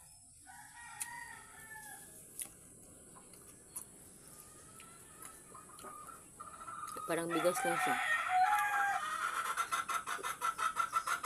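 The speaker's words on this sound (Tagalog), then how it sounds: "Ang ingay ng mga manok." Chickens cluck and a rooster crows in a yard in Zamboanga, Philippines, starting faint and sparse, then swelling into loud, rapid, repeated clucking and crowing close by in the second half, with brief talk early on.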